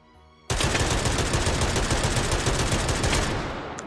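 Loud full-auto gunfire in the VR game Hot Dogs, Horseshoes & Hand Grenades bursts in abruptly after a quiet moment, a long unbroken close-up stream of rapid shots that fades slightly at the end.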